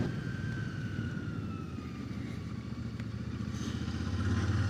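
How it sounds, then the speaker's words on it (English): Loud, steady engine drone from a 650 motorcycle being ridden, a Royal Enfield Shotgun 650 with a 47 horsepower engine, heard close up with wind rush and rising revs toward the end. "It's the usual 650 engine that's used in so many models these days."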